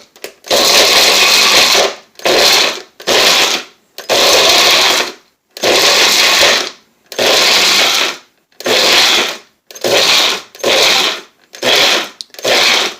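A grinder pulverizes homemade jerky into snuff in a dozen loud, harsh whirring bursts of one to two seconds each, separated by short silences, close up with no talking.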